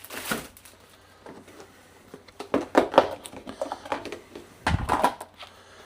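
A knife cutting the ends off a bread roll for a bacon cheese burger, a few crisp crunching cuts and knocks on a board, close by, in irregular short bursts with quiet gaps between.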